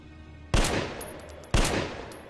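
Two loud, sharp gunshots from a video game, spaced about a second apart, each with a short decaying tail over a quiet background.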